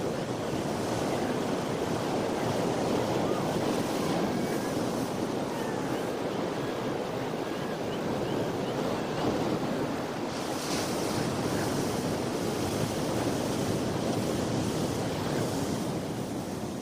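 Pacific Ocean surf crashing on the Kamchatka coast: a continuous loud roar of breaking waves with wind rushing across the microphone, swelling slightly partway through.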